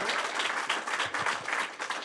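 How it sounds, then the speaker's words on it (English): Audience applause, a dense wash of many hands clapping steadily and fairly loudly for the full stretch, with no voices over it. "Round of applause for JOET."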